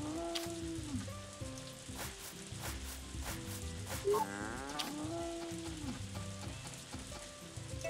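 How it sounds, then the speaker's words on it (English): A cow mooing in the farming life game Story of Seasons: A Wonderful Life, heard as one brief low call partway through, set under steady background music. "Now that's a cow."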